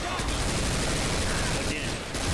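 Rapid gunfire from a zombie shooter game, dense loud bursts blending into continuous fusillade, with voices faintly under the shots.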